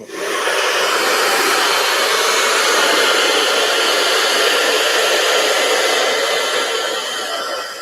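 A Hoover vacuum cleaner runs steadily at close range, a loud, even high-pitched whine and hiss that holds for several seconds before easing slightly at the end.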